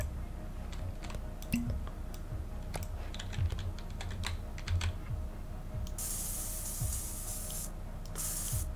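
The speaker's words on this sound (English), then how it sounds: "A bit of spray paint." Spray paint hisses from a can in the SuchArt painting game: two bursts of loud broadband hiss, a long one and a short one, following a stretch of keyboard typing and clicks.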